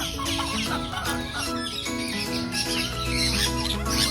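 Chickens cluck repeatedly at close range, with steady bird calls and busy outdoor background noise and no talking.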